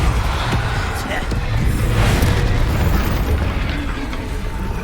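Deep booming spell blasts from the video game Hogwarts Legacy during a dragon fight, several heavy bursts layered over constant battle rumble, loud and close, with a voice calling out spell names over them.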